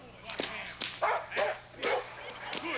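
An 18-month-old American Pit Bull Terrier barks five or six times in a steady rhythm, close and fairly loud, with some yipping edges between the barks.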